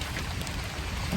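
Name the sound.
rain falling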